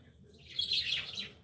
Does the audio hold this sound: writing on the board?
no